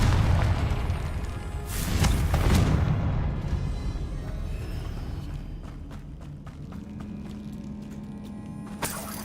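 Confringo blasting spell going off in the game Hogwarts Legacy, a loud booming burst early on that rumbles and fades, followed by quieter crackles and a sharp hit at the end.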